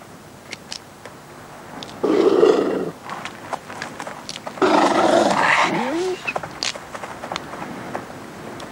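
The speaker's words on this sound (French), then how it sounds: "Un nouveau coyote espère partager le repas." Coyotes snarling and growling as they squabble over an animal carcass in the wild, two rough bursts of aggressive vocal noise with short snaps and yelps between them.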